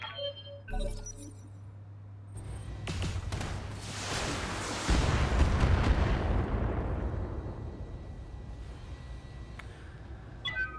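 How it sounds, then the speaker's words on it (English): LRM-20 missile barrage in the BattleTech video game: a few sharp clinks, then a swelling roar of launches and impacts that builds into a heavy rumbling wash of explosions before tapering off with scattered metallic debris. "we'll dump the LRM-20s in there as well"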